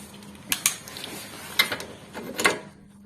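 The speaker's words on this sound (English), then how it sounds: "We unscrew the bolts." Bolts on a Honda CR-V front strut are unscrewed with a few sharp, close metallic clacks and a brief ratcheting rasp spread over a few seconds.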